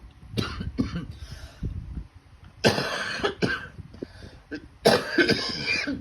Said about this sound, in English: Bit of a coughing fit there.